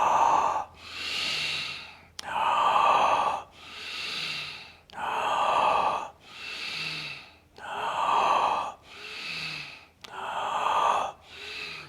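Fast, strong breathing exercise with six forceful breath cycles in a steady rhythm, each a loud rushing inhale and exhale close to the microphone, and no talking.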